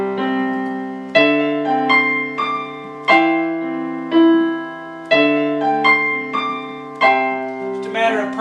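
Piano chords are played with the left hand dropped an octave lower, giving a deep bass line under repeated struck chords in a steady rhythm, alone and clear.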